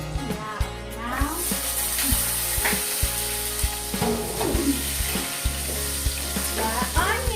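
Rice fries in a pan with a steady sizzling hiss, punctuated by scraping and clinking knocks from stirring, close up, with faint voices in the background.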